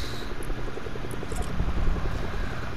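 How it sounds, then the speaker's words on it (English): Helicopter rotor chop in a video game, a steady low pulsing thrum that builds slightly louder over a few seconds against a busy game soundscape, with no talk over it. "Don't tell me I already hear a helicopter."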